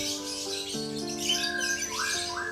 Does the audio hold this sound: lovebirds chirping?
yes